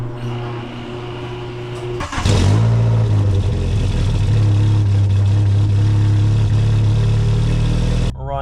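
A VW Jetta engine sits quiet for about two seconds, then starts with a sharp burst and settles into a loud, steady idle hum nearby. It cuts off abruptly at the very end, and no one speaks.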